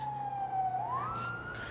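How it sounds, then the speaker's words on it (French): An ambulance siren sound effect wails in a single rising sweep, clear and moderately loud, with a faint background hum and no speech. "L'ambulance arrive."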